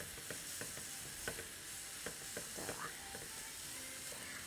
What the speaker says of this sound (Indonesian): Kemudian kita goreng, kita tumis.